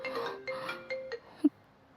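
A phone ringtone plays a short repeating electronic melody, three brief bursts followed by a single chime, moderately loud in a quiet room.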